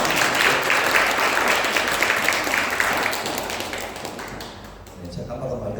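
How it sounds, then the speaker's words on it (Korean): A church congregation at a Sunday service claps to welcome someone, a lively burst of many hands that thins out and fades after about four seconds, with faint voices mixed in. "우리 다시 한번 박수로 환영할까요?"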